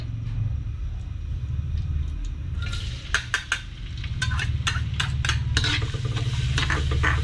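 Garlic fries in hot cooking oil for a Kapampangan bringhe rice dish, giving a steady close sizzle over a low hum, with a run of sharp metal utensil clinks against the pan partway through.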